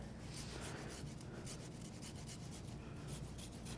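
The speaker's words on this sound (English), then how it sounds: "It just gets scraped right across the lime, and the zest will just fly off and collect in the little receptacle there." A microplane zester scrapes across a whole lime, giving a steady, close, continuous rasping rub with repeated strokes and no speech.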